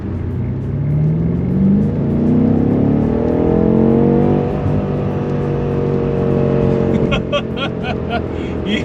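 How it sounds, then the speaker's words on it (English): BMW M8 Competition Gran Coupe accelerating up an on-ramp, engine note rising through the gears with a strong sustained roar, then easing off into cabin road noise with some clicking near the end. "Gonna put it into M2 mode,"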